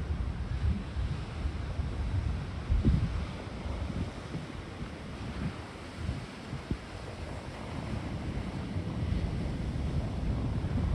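Ocean waves at Kawa Bay, Hawaii, a continuous low rumbling wash of surf mixed with gusty wind buffeting the microphone, steady and fairly loud with no voices.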